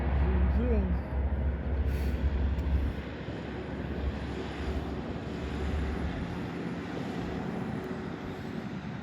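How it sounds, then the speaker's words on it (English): Low, steady rumble of aircraft engines droning far overhead at sunrise from the Gay Street Bridge, with a deeper hum fading partway through. "There's a couple of airplanes up there."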